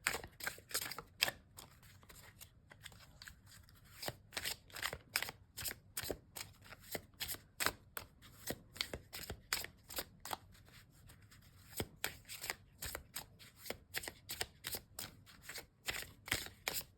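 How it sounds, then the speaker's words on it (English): Tarot cards shuffle in a quiet room, a steady run of crisp riffling snaps and slides repeating close to the microphone. "Lovely to shuffle. They just slide."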